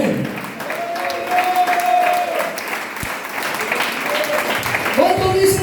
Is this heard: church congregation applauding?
yes